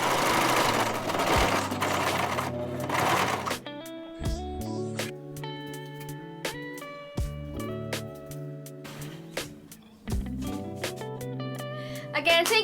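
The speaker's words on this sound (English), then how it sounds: "Then I just pin the straps on my sheared top and just sew the straight stitch on it." A sewing machine runs a straight stitch across a shirred top, its fast needle rattle coming in bursts separated by short pauses, close and clear with no voices.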